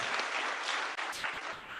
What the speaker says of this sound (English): Another bigger clap.